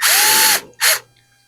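A number 30 drill bit bores a countersink into a Piper Super Cub outboard aileron false wing spar, a close, loud power-drill whine running for about half a second, then a second shorter burst after a brief pause.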